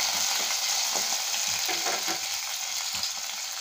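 Garlic and curry leaves fry in a pan with a dense, even crackling sizzle throughout, sprinkled with small pops and light stirring ticks, heard alone at close range.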